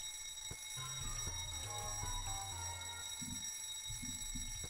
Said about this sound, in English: if this sounds an alarm, I might be in trouble